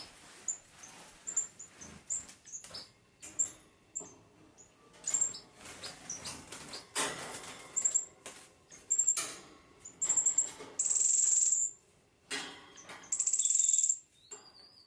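Finches, including black-cheek and green-backed twinspot, chirp and call in aviary flights, a close series of short high tweets with some longer sustained notes near the end.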